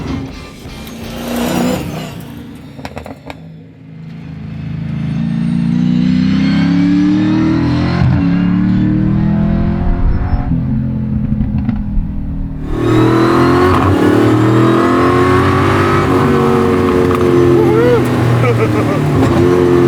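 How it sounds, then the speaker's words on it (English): An 850 HP carbon-fiber monocoque Chevy C10 race truck with a sequential transmission revs hard and accelerates, its loud engine note climbing and breaking at paddle shifts, with people talking over it at times. "there's nothing like shifting a sequential via paddle, right?"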